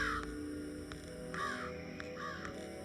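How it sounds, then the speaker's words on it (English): Crows caw repeatedly in the Jenny LeClue video game: three harsh calls at a steady interval, moderately loud, over a low droning ambient background with no talk. "And creepy birds."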